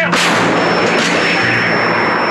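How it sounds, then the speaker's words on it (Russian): A single loud gunshot effect in a Russian album track blasts out with a sharp crack followed by a long booming, rumbling decay that fills the moment. "Выстрел!"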